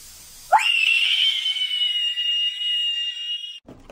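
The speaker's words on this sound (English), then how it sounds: "Whose scream is the best?" A person lets out one long, loud, sustained high-pitched scream in a screaming contest, holding the note steadily for about three seconds before it cuts off abruptly into a brief bit of noise.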